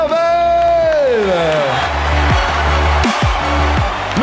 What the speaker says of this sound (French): Applaudissements pour Pavel.